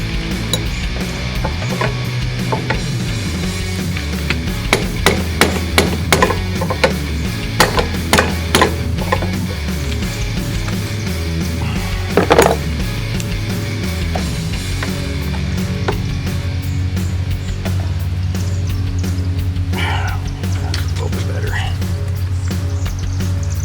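A mallet strikes a Husqvarna HU725AWD mower in a series of sharp, close knocks, several quick blows in a cluster then scattered hits, over a steady low mechanical hum.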